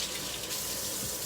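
Tap water runs steadily into a sink while a lemon juicer is rinsed, a continuous close splashing hiss with no talk.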